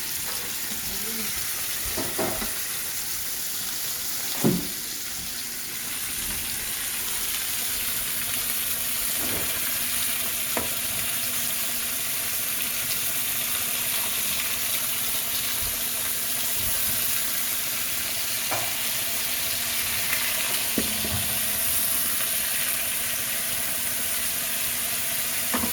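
Steak sizzles and fries steadily in a pan after being flipped, a dense continuous hiss with a few soft knocks and scrapes, no talking.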